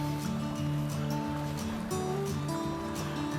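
A brook swollen by a week and a half of rain rushes past in a steady, loud torrent. It is heard close up with a tonal musical bed underneath.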